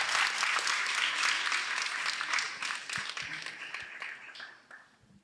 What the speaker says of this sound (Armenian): եկեք ծափահարենք մեր մասնակցին